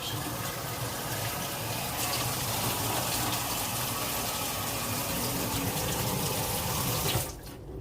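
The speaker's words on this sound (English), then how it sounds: "go ahead and wash my cabbage" Julienned cabbage is washed under a running kitchen tap, a steady close gush of water splashing into the sink that drops off abruptly near the end.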